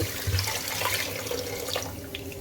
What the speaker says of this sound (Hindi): इसमें मैं ये पानी ऐड करूँगी